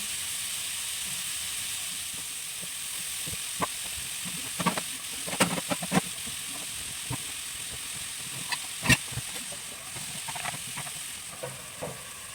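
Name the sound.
meat cooking in a pan, sautéed for tomato sauce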